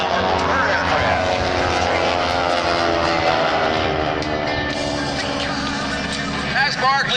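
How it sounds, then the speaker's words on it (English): T-6 Texan trainer airplanes with 600-horsepower 1,340-cubic-inch Pratt & Whitney radial engines flying in formation at an Ocean City, New Jersey airshow, producing a loud, continuous droning engine roar with a commentator talking over it. "And the sounds you're hearing, not so much exhaust, that 600 horsepower Pratt Whitney engine."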